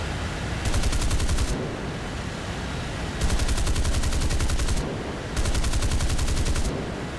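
Aircraft cannons on a jet fighter fire in War Thunder, giving three sustained rapid-fire bursts of one to one and a half seconds over a constant loud engine roar, with no talking.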